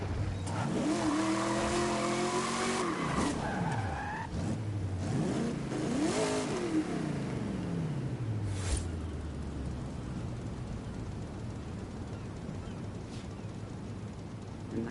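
A 1965 Ford Mustang with a 289 engine races in the video game Forza Horizon 5, the engine revving and rising through gears as tires squeal and skid, loud and close, before settling into a steadier drone.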